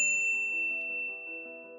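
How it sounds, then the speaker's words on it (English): A single bright notification bell ding, struck once at the start and left ringing with a clean, slowly fading metallic tone, faint and alone. "ring the bell to get notified about our latest videos"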